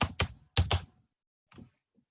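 Bursts of computer keyboard keystrokes in quick clusters, a pause, then a few softer taps, close and clear with no talking.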